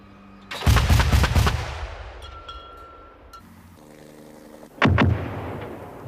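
Two loud bursts of fire from a Bofors 40mm gun shooting 3P all-target rounds, the first a rapid string of booming shots and the second a single heavy blast about four seconds later. A lingering rumbling echo follows each burst.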